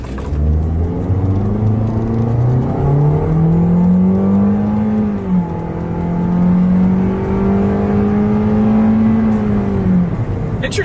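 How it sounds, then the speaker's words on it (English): A 2026 Toyota Corolla Cross hybrid accelerating at full throttle on a straightaway, with a loud steady engine drone whose pitch climbs and holds under the CVT, heard from inside the car with no talking. "let's see how quickly we can get our new 2026 Toyota Corolla Cross here up to speed"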